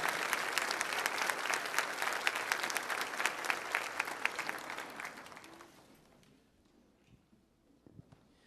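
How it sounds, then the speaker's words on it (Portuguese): Audience applause in a church auditorium during a Catholic Mass, dense and steady clapping that fills the first five seconds, then fades out, leaving near silence with a few faint knocks. "Vamos aplaudir a palavra do Senhor"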